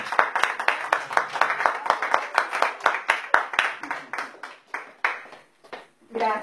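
Applause breaks out from a small audience at a tango venue, brisk close hand claps in a quick rhythmic run that slows and thins toward the end before a voice starts talking.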